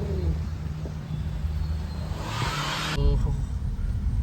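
A car drives along a road, its engine and tyre noise a steady low rumble with faint hiss, shifting near the end as a passing rush grows louder; voices murmur faintly in the background.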